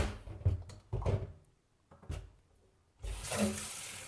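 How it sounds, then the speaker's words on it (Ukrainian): Cold water runs from a tap in short bursts between quiet pauses, then flows steadily into a kettle at the end, close by. "В чайник набираю холодну воду."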